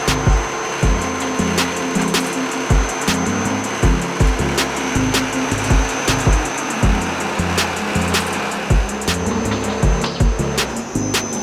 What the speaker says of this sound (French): voilà comment sont fabriqués les conduits d'air en spirale.